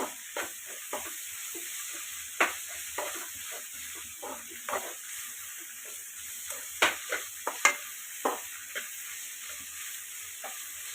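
Crushed ginger, garlic and green chilli stirred in a pan for chicken biryani, a steady hiss of frying under scattered sharp scrapes and taps of a spoon against the pan, no voices.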